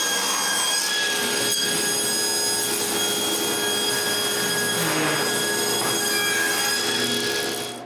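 A saw cutting the edges of walnut strips in a woodworking shop, a loud continuous rasping cut with steady tonal whine running unbroken for several seconds.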